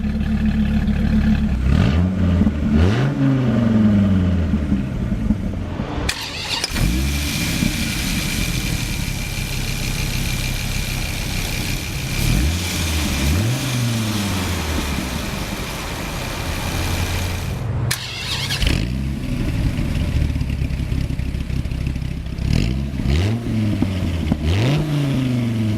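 A 2003 Dodge Viper SRT-10 V10 starts up, settles into a deep, lumpy idle, then gets several loud throttle blips that rise and fall, with a short pause near the middle before the revving resumes.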